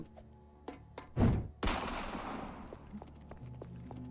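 Gunfire in a video game: a few faint distant pops, then two loud blasts with a booming reverberant tail that fades out, followed by scattered light clicks and taps.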